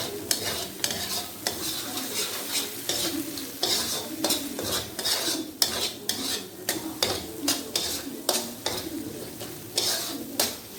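Acar timun, a Malaysian cucumber pickle, stirred in a pan with a utensil, giving steady repeated scraping and clinking strokes over a low sizzle, close and fairly loud throughout.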